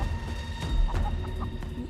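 A chicken clucks a few short times in a horror video game over a dense, droning game soundtrack with steady low rumble.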